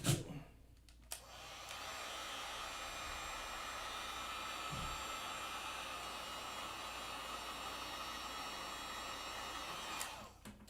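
A heat tool blowing hot air onto an iPhone SE 2020 to soften the adhesive for screen removal gives a steady, loud, hissing airflow that holds for about nine seconds before cutting off, with a brief thump partway through.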